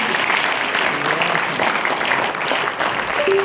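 Applause from an audience at an event, a dense steady wash of clapping that holds at an even level throughout, with faint voices mixed in underneath.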